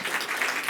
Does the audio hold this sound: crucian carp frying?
no